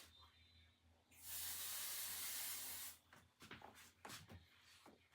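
Adhesive spray hisses in one steady burst lasting under two seconds as it is misted onto an embroidered patch over a trash can, followed by soft rustling and handling sounds.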